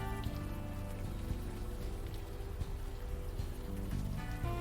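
Rain patters steadily in an adventure video game scene, a continuous hiss of drops under a low, sustained musical drone, with no one talking.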